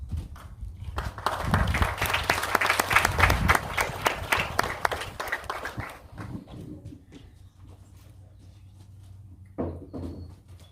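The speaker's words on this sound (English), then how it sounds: "We're going to give you a nice round of applause" Applause for a graduating class at a school graduation ceremony swells and peaks, then thins to scattered claps and faint room noise before a brief late burst.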